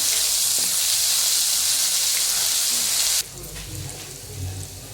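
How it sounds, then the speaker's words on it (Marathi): Curry leaves and ginger-garlic paste hit hot oil for puri bhaji with a loud, bright hissing sizzle that drops abruptly to a softer crackle with stirring scrapes and low bumps. "त्यातच टाकूया बघा कढीपत्ता, आलं लसूणची पेस्ट केल्या बघा, ती पण टाकूया। त्याला असं छान मिक्स करून भाजूया।"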